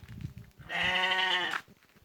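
A single drawn-out bleat from a sheep in Kavak village, Nallıhan, Ankara, loud and close, lasting under a second, with quieter background noise before and after.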